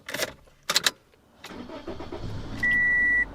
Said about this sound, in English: we're gonna go ahead and start up the car.